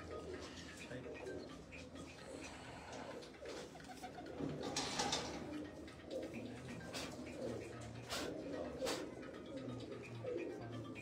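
Pigeons coo in a Jinnah Garden loft in Islamabad, a steady low murmuring layered with fluttering and shuffling, close by, with voices talking faintly in the background.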